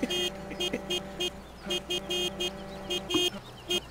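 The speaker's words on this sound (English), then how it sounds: "He's honking his lunch break horn." A truck in a sawmill video game sounds its lunch break horn in a string of short, evenly spaced honks over a steady engine drone, moderately loud and close.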